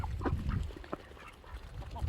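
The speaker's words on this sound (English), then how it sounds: "This white duck there, she had to go on a diet because she was almost to the point she couldn't walk." Ducks, including a white one, give quick, soft quacks and honking calls in a short, busy burst, fairly close with no one talking.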